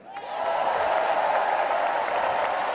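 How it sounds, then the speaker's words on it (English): A crowd at a political speech applauds and cheers in a steady, dense wash of clapping that holds for a few seconds. "Not as enthusiastic of a cheer."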